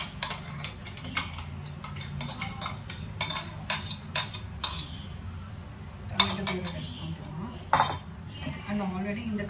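A spoon stirs tomato puree in a pot while a mixture is mixed in, with repeated clinks and scrapes of metal on the pot against a person talking.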